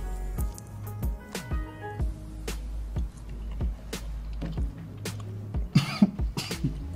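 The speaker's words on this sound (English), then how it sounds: "Coughing over the boy." A run of harsh, irregular coughs, about a dozen bursts close by, over a steady low hum.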